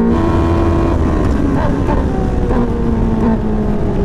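A race car engine runs loud and close, its drone rising and holding through a rev attempt while a driver and helper talk over it.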